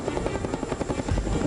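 Helicopter rotor beating steadily and loudly overhead, the craft used to airlift a 105mm howitzer for air assault troops, with a continuous buzzing drone and rhythmic pulses throughout.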